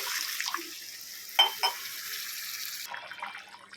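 Water is poured into a pan of jackfruit and shrimp being cooked, a soft splashing pour with a couple of sharper splashes midway before it trails off into quieter sizzle.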